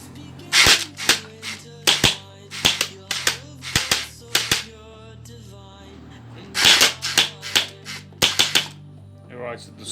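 Realistic Desert Eagle gel blaster toy pistol firing gel bullets, a series of sharp snappy shots in quick clusters with brief gaps, close and loud, with a mechanical whir between bursts.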